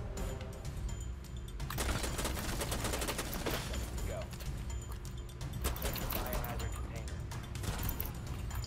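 Rapid gunfire bursts in Rainbow Six Siege, loud dense volleys of shots with a short pause before resuming, continuing in clusters with a brief lull midway.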